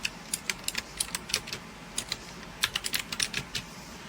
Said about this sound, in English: So I bought this keyboard for work, and listen to how clicky it is.